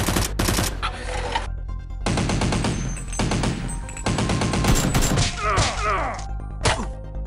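Nerf guns fire during a staged fight, with dense, rapid bursts of shots and thumps continuing throughout, loud and close, broken by brief gaps.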